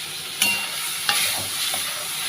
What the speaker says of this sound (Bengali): শুকনো লঙ্কা, সাদা জিরে দিলাম, দিয়ে একবারে কষিয়ে করে নেবো